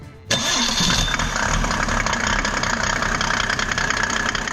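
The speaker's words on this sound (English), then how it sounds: "So we'll go ahead and fire it up and see if this thing will run." A Mercedes OM606 diesel engine in an E300 W210 cranks and catches at once, then settles into a loud, steady, close diesel idle with a rough, clattering tone.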